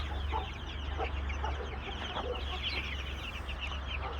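Guinea fowl hens, one guarding chicks on a farm, cluck and call in a busy, overlapping chatter close by, over a steady low hum, with no speech.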